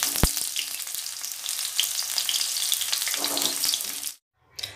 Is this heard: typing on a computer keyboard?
no